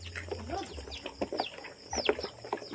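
Chickens clucking softly in a farmyard, a scatter of short clucks and calls over quiet background noise, with a voice briefly in the mix.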